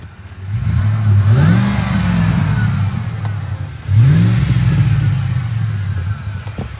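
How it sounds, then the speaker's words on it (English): A 2007 Ford F150 FX4 pickup with new spark plugs and coil packs revs up twice, close and loud, each rise followed by a fall back toward idle, with no voices. "We'll give one last rev here."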